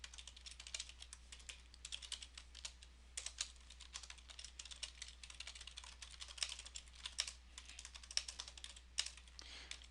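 Fingers typing on a computer keyboard, a steady run of quick, light key clicks with irregular rhythm, close but soft, no voices.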